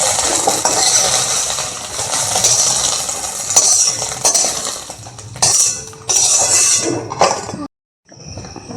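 Eggs frying in oil in a pan while cooking chow mein at home, a continuous loud sizzle broken by scraping and stirring clatter, cutting out briefly near the end.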